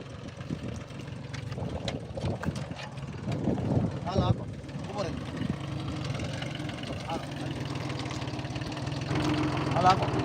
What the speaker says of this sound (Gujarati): દીપકભાઈ કેમ હાલે છે ટ્રેક્ટર